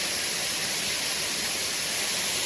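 Creek water rushing after a day of rain along the Loyalsock Loop Trail, a constant broadband roar of flowing water, close and unbroken.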